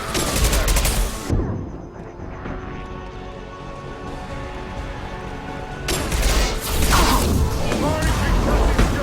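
Loud gunfire bursts in the video game Mass Effect 2, with rapid automatic fire and impacts at the start and end and a tense lull between, mixed with game sounds and voices.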